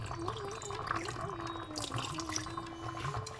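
Water splashes and trickles steadily into a cooking pot of duck bhuna, a soft continuous pour with a rising filling tone, fairly quiet and with no talking.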